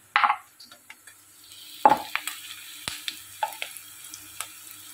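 Onions sauté in oil in a pan, with a faint sizzle under sharp, scattered scraping and clinking strokes as they are stirred.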